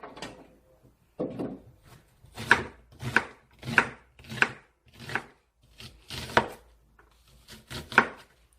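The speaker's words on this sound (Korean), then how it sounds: "양파는 이렇게 썰어 주시고요" A knife slices through half an onion on a cutting board for beef radish soup, making about eight crisp, evenly spaced chops close up, with short quiet gaps between strokes.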